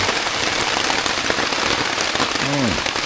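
Steady rain falling on a surface, a dense continuous hiss close to the listener, with a brief voice-like tone near the end.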